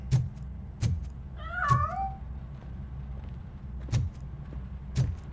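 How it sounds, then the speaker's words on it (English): In the RoboCop: Rogue City video game, a hidden cat gives a single clear, wavering meow, set among several sharp thumps and knocks over a low background rumble. "That cat must be hiding inside."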